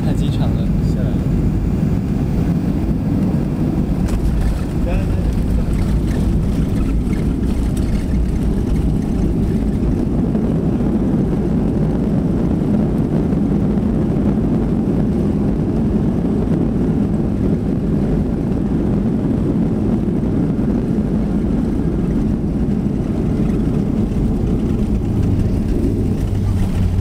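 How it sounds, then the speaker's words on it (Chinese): Airliner cabin during descent into Altay airport, a steady low engine and airflow rumble that holds constant throughout, with passengers talking faintly beneath it. "要降落阿勒泰机场了"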